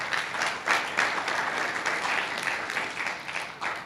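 A large audience at a rabbi's Hoshana Rabbah talk gives a sustained round of applause, dense and steady clapping from many hands filling the room without a break.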